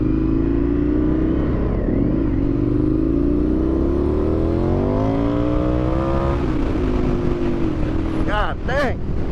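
A motorcycle engine idles loudly up close, then its pitch climbs and dips through several revs before sharper throttle blips near the end as the bike sets off, with rushing wind noise throughout.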